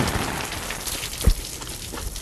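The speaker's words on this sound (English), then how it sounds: "I'm filling up water from my roof when it's raining" Rain pouring onto a roof, a dense continuous patter of drops with one louder splash or knock partway through, close and steady, with no talking.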